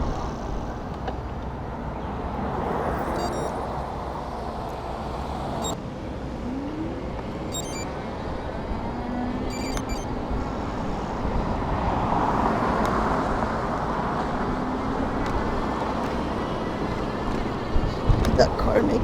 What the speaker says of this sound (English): Let's wait for the traffic to die out so we could haul ass.